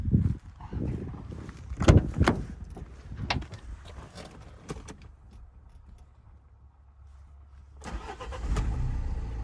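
A 2013 Renault Trafic 2.0 Euro 5 diesel van, 115 hp, starts up after rattling and clunks, the engine cranking and catching into a low steady idle, with a louder rev near the end; close and clear.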